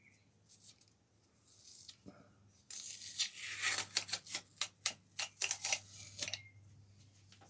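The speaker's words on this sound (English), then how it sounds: "let's get this tape off." Tape being peeled off during a front end upgrade on a Orange P7, a long rip followed by a run of quick crackling tugs, close and fairly loud.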